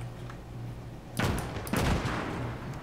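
A German flak gun fires in the Gates of Hell: Ostfront video game: two sharp, close reports about half a second apart cut through a steady low hum of background ambience.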